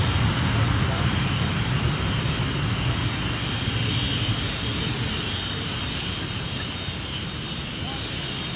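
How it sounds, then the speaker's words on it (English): Business jet at Gold Coast Airport, a loud steady engine roar and broad rushing noise that fills the air and slowly fades slightly as it passes. "Here comes that business jet that I heard."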